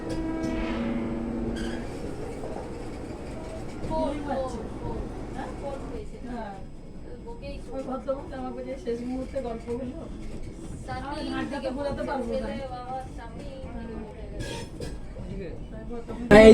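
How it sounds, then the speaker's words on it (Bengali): A Vande Bharat train rolls slowly into Puri station with a low rumble and a few metallic clinks and squeals, heard from on board beneath a voice talking through most of the stretch. "ট্রেনটা ধীরে ধীরে পুরী স্টেশনে ঢুকছে।"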